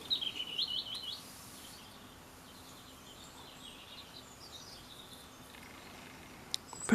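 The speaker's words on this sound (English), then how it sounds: "Birds are all singing away this morning." Morning birdsong: bright chirps and warbling calls from a few birds, louder at first and then thinning to faint distant tweets over a soft ambient hush.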